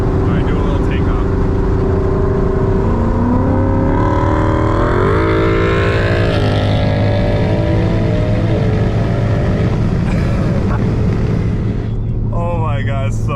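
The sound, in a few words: Mustang GT and straight-piped Focus ST accelerating on highway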